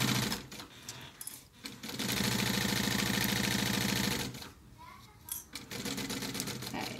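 A sewing machine stitches the seam of a fabric diaper cover, running in a steady fast whir for a couple of seconds between shorter bursts, stops and fabric handling.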